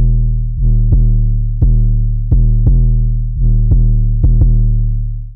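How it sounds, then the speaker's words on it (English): Loud, booming 808 bass drum hits in a syncopated pattern, each deep tone sustaining and gliding before the next, with no other instruments. "We have the 808."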